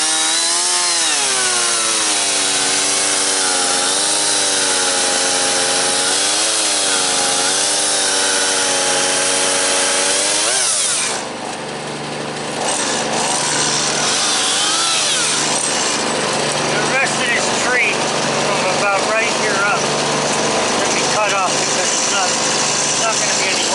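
A chainsaw cuts through a branch during slash cleanup in the woods, a loud, close, revving whine that rises and falls, then bogs into a rougher, grinding cut partway through.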